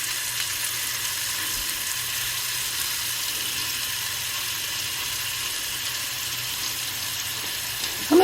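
Scallops sear in a hot pan, giving a steady, broad sizzle that holds unbroken and fairly loud throughout, with a brief knock near the end.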